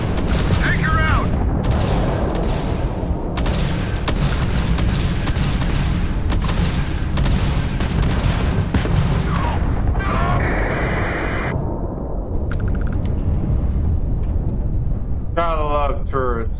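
Turrets firing in the Starfield video game: dense, loud, rapid bursts of gunfire and booming impacts that go on almost without pause, with a few synthetic tones and voices in the mix.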